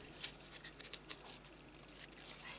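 Scissors snipping open one side of a small paper chocolate explosion box, a few quick close, quiet crisp cuts clustered near the start, followed by soft faint rustling.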